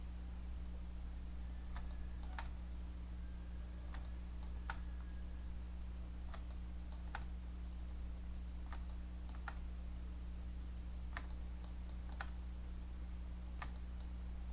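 Sharp mouse clicks sound at a desk during 3D modelling work, falling in scattered pairs and singles over a steady low electrical hum, close and fairly quiet, with no talking.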